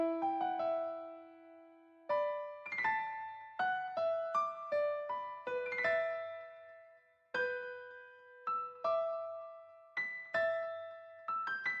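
A piano loop melody programmed in FL Studio plays alone, with clear struck notes and sustained chords in an unhurried pattern that changes between its first and second halves.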